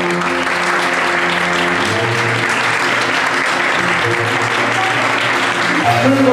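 Wedding guests applaud steadily as the bride makes her entrance, a dense, loud wash of clapping sustained throughout with a soft background tone underneath.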